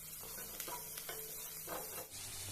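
Asafoetida goes into a hot pan and gets stirred, giving a soft, steady sizzle with a few scraping stirs of a utensil, heard close and fairly quiet with no talking.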